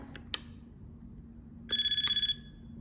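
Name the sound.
phone ringing in Tamagotchi restaurant video game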